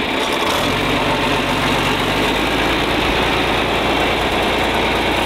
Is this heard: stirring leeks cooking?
no